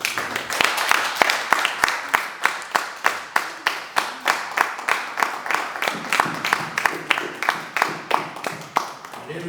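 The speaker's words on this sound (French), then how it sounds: "Il y a des acclamations." A church congregation applauds in steady rhythmic unison claps, loud and close, sustained throughout with faint voices and cheers mixed underneath.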